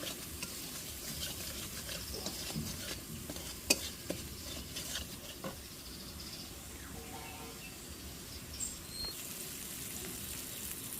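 Fish roe kofta masala stir-fried in a pan, a quiet continuous sizzle broken by scraping stirs and a few sharper clicks of the spatula, with no voices.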